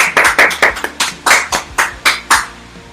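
A congregation at a church sermon claps for the Lord, a dozen or so distinct, fairly loud hand claps in an uneven rhythm across three seconds, with no voices.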